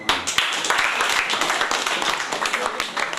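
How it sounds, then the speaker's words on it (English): Audience applause at a Centennial Old Students Association gathering for an Engineers Without Borders project, a loud, steady patter of many hands clapping throughout. "Clap for him."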